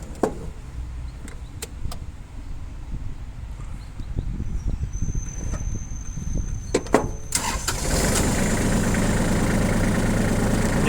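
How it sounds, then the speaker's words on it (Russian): A Japanese all-wheel-drive mini tractor engine cranks over with sharp clicks and scrapes, then catches around the eighth second and settles into a steady, close, loud idle. "Давайте запустим трактор."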